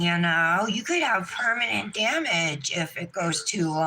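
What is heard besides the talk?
No everyday noises stand out.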